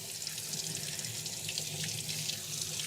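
Water running steadily from a sink tap as items are rinsed, a constant close hiss and splash with no breaks or voices.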